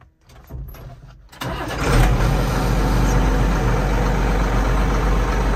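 A car engine cranks briefly, catches and fires up, then settles into a loud, steady, close-up idle with a deep rumble that runs on unbroken to the end.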